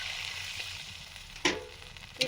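Potatoes frying with spices in a pan for aloo dum give a steady close sizzle, with two sharp bursts of louder spitting as the pan is stirred.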